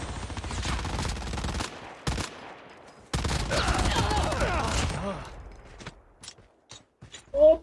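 Gunfire in the mobile game Call of Duty Mobile, Blitz mode: loud sustained automatic bursts, a short gap, then another long fusillade, tapering into scattered single shots and clicks, with a player's voice briefly over it.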